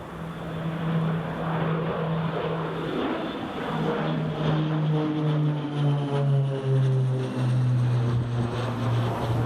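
A Beechcraft King Air propeller plane lands at Newcastle Airport during a storm, its steady engine drone and rising propeller tones carrying over heavy wind and rain noise throughout.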